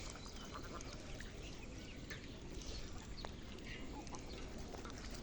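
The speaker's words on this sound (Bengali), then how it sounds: "এখানে হাঁসের অভাব নাই" A flock of ducks quacks faintly in the distance, with scattered calls over a steady outdoor background.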